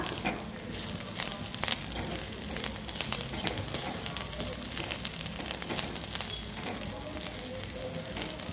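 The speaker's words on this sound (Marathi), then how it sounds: "खोबरं आता ना कांद्याबरोबर लगेच परतून घेऊ।" Grated coconut sautés with onion and coriander in a hot pan, giving a steady close sizzle with scattered crackles and stirring scrapes throughout.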